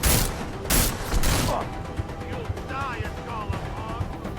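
Bursts of gunfire in the video game Deus Ex: Mankind Divided, loud shots packed into the first second and a half, followed by quieter scattered impacts and mechanical clatter.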